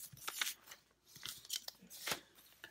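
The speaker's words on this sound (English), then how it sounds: "So maybe I'll rip a piece from that." Paper being ripped by hand for a junk journal: several short, close tearing bursts with brief quiet pauses in between, no talk.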